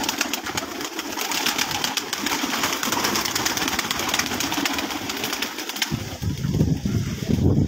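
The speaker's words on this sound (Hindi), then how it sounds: "ये कबूतर हैं जी" Pigeons kept on a rooftop coo in soft, repeated low throaty calls under a constant outdoor hiss, with brief flurries of wing flapping near the end.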